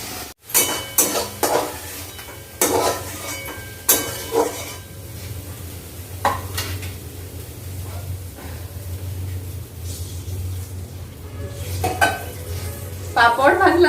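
Masala being stirred and fried for a curry in a pan, with scraping spoon strokes and clinks against the metal over a steady low sizzle; no one talks.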